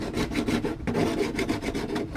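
A hand file scraping along the flange of an R31 gauge cluster, quick rhythmic rasping strokes close up and fairly loud, with a brief pause midway.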